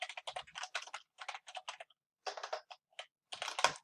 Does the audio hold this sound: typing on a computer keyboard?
yes